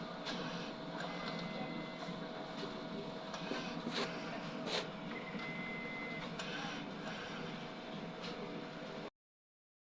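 An XP600-head inkjet printer runs steadily, its mechanism whirring with occasional clicks and brief higher tones from the print head moving back and forth.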